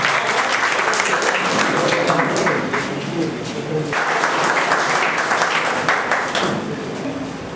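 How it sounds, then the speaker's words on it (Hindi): A crowd applauds steadily and loudly for several seconds at a Guhraj Nishad Jayanti event, welcoming a former secretary, the clapping swelling and easing slightly without a break. "तालियों के साथ उनका स्वागत किया जाए"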